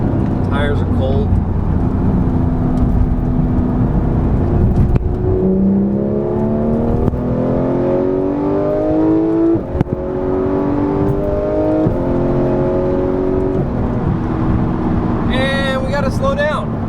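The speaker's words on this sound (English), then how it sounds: "we can get a little wild here. Drop it to third, second." A Porsche GT3 accelerates hard on an on-ramp through the gears, its engine note rising in several climbing sweeps with brief shift breaks, loud and close from inside the car, with a person talking over it.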